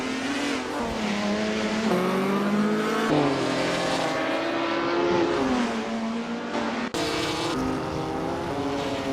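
A vintage sports racing car at Donington, driven hard, its engine revving loud and close with gear shifts that drop and climb in pitch, then a brief cut before it pulls strongly again.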